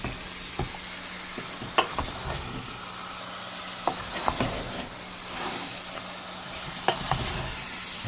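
Homemade spicy chicken curry stirred in a pan, with a ladle scraping the pan in scattered, irregular strokes over a soft, steady simmering sizzle. No one speaks.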